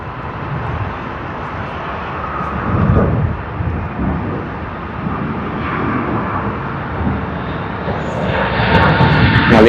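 A Malaysia Airlines jet airliner arriving to land at Sydney Airport, a steady broad roar of engines and rushing air that swells gradually and grows louder toward the end, heard from outdoors at a distance.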